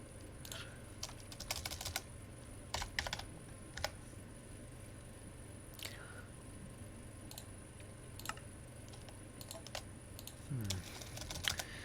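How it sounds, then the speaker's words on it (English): Quiet bursts of computer keyboard typing during a modded Minecraft (Enigmatica 9) session, with irregular clusters of keystrokes separated by pauses over a steady low background hum. "I'm going to type this."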